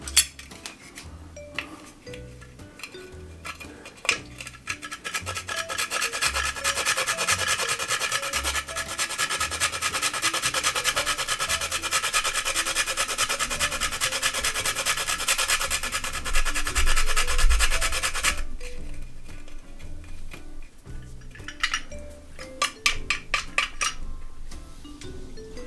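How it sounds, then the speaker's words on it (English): Whole nutmeg rubbed against a grater into a Jamaican peanut punch with Guinness, a steady dry scraping rasp that builds to a continuous loud stretch mid-clip, then breaks into shorter strokes. "I'm going to grate in our nutmeg"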